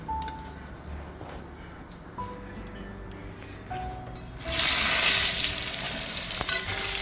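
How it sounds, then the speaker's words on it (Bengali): Potatoes seasoned with turmeric and salt fry in a wok; quiet at first with a few clicks, then a loud, bright sizzle bursts up and continues steadily close by. "আলুগুলোকে লাল লাল করে ভেজে নেব"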